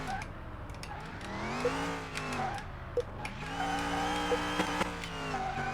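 A Plymouth Superbird engine revving on the test track in Car Mechanic video game, rising and falling in pitch through several throttle sweeps, loud and continuous with brief clicks.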